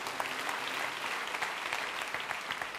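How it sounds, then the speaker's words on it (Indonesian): Worship-night congregation in church claps steadily, a dense, continuous round of applause from many people, fairly close and unbroken with no voices standing out. "Beri tepuk tangan untuk Tuhan Yesus"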